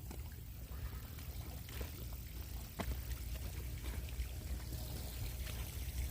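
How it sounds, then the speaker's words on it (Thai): Steady, rushing wash of falling water, a continuous broadband roar close by with no talking. "น้ำตกก็มีเนาะ"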